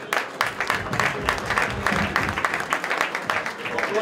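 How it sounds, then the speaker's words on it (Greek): Audience applause for a minister at a municipal event in Xylokastro, a crowd clapping steadily at moderate volume for about four seconds, with some voices mixed in. "θέλει το χειροκρότημά σας"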